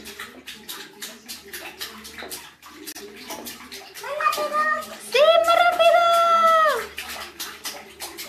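A small child splashes in a bubble bath in a baby bathtub, with scattered close slaps and sloshes of water, then a drawn-out, high childish vocal sound over the splashing.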